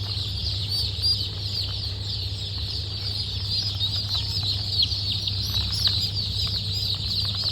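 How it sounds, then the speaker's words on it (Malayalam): Aseel game fowl of the Kathikaal type cluck in a pen, with steady overlapping clucks and occasional wing flaps over a constant low electrical hum. "ഇതെല്ലാം അസീൽ പൂരുകോഴികളാണ്."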